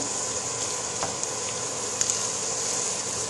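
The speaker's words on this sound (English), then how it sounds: "We're heating up the onions. I just have a kind of a medium fire there." Onions fry in a pan over a medium flame with a steady, soft sizzle throughout, broken by a couple of faint clicks and stirs.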